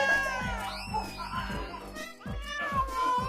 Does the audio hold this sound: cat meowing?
yes